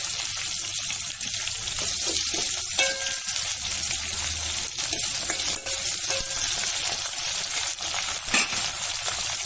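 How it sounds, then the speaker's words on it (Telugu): Green chillies fry in oil in a pan for Andhra-style pappu charu, a continuous close sizzle with faint crackles and occasional light clinks of a utensil. "పచ్చిమిర్చి కొంచెం ఫ్రై అవ్వాలి, ఒక 1 మినిట్."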